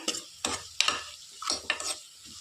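Spoon scraping and stirring lemon rice with salt and lemon juice in a pan, a few distinct close strokes in quick succession with a soft sizzle between them.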